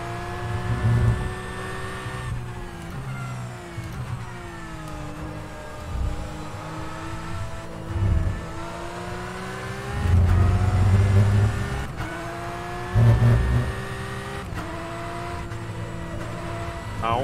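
Race car engine in rFactor 2 at the 2020 Le Mans circuit, pit limiter off: a steady, loud whining drone that rises and dips in pitch through repeated accelerations and gear changes, with heavy low-end surges.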